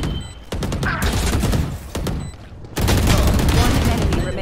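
Gunfire in the tactical shooter Valorant during a tournament match, sharp cracking shots and a dense volley near the end, under an excited commentator's voice.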